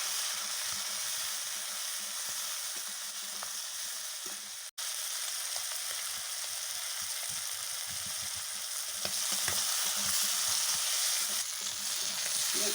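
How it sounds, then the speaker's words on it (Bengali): Chicken liver frying in hot oil with turmeric for mete kosha: a continuous close sizzle with crackles, a brief sharp clack midway and light stirring scrapes, without talk. "এবার মেটেগুলো তেলের মধ্যে দিয়ে দেবো।"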